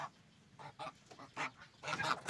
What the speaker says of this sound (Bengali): তো প্রথমে আগে হাঁসগুলোকে খাবার দিয়ে দিলাম, হাঁসগুলোকে ধান দিয়ে দিলাম। খাওয়ার জন্য খুব অ্যাগ্রেসিভ।